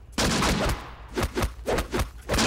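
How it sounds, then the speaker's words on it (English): Battle gunfire in the WWII desert tactics game Close Combat: The Bloody First, a loud opening blast followed by a scattered series of sharp shots and bursts of varying strength, with no voices. "but let's at least try to fire"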